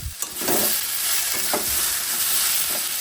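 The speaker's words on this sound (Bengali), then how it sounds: "সব কিছুই তো বেশ ভাজা ভাজা হয়ে গেছে, এবার একটু গুঁড়ো মশলা দিয়ে দেবো।" Ridge gourd, potato and jackfruit seed curry with cumin, turmeric and chilli powder sizzles loudly in a new kadai, with a few stirring scrapes across the steady hiss.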